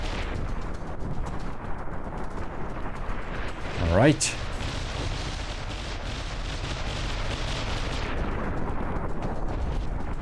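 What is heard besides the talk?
battleship turret explosions in a naval video game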